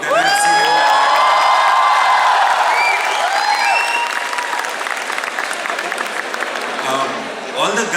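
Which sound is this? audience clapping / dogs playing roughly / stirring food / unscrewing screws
audience clapping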